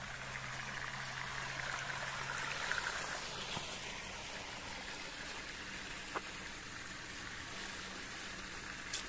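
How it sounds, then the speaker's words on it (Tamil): Irrigation water runs steadily through an open channel on a farm in Oman, a continuous close trickling wash with a faint low hum at the start and no talk. "இங்கே திறந்து விட்ருக்காங்க இந்த சைடில்."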